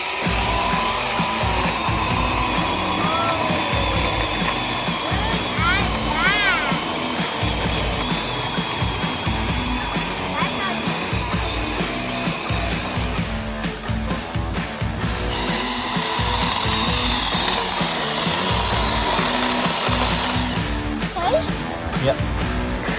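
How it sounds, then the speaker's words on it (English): A toy chainsaw whirs with a continuous buzzing motor hum, holding steady with brief changes in pitch, loud and close, while a child and an adult talk over it. "Chainsaw."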